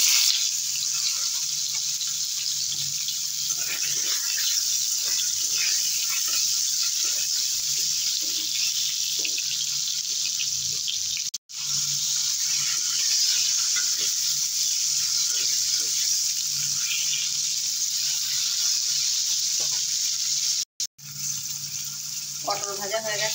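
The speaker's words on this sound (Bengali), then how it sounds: "এই তেলে পটলগুলোও ভেজে নেব।" Pointed gourds (potol) frying in hot oil left over from frying eggs, a steady close sizzle with a faint hiss and no break except two brief cuts, with occasional light clinks of utensils.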